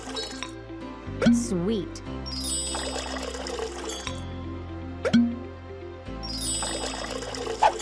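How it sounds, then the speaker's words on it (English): A fruity drink is mixed and poured in a kids' mobile game: bright glassy clinks, drips and pouring splashes come over a looping tinkly tune, and a voice speaks briefly. "Let's mix a fruity beverage."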